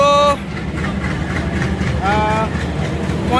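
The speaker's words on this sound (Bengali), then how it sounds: "এই একটা কি ট্রেন ঢুকছে, আর এই আমাদের ট্রেন বিদায়।" A train arrives at Varanasi Junction with two loud horn blasts, one at the start and another midway, over a continuous low rumble of railway platform noise, with voices faintly present.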